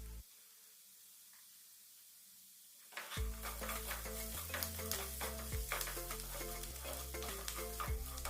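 Matar aloo of peas and potatoes fried in a pan with garam masala and coriander leaves, near silence for three seconds, then a loud close sizzle with rhythmic spoon stirs and scrapes against the pan.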